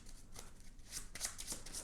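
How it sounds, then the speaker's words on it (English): A deck of playing cards is shuffled during a tabletop board game, quiet close riffling with several crisp bursts of card snaps in quick succession. "and this gets shuffled back into the deck"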